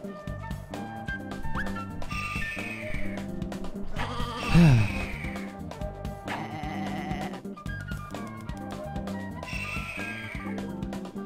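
Cartoon sheep from Looney Tunes: Sheep Raider let out a few bleats over busy game music, with a louder sharp burst near the middle of the clip.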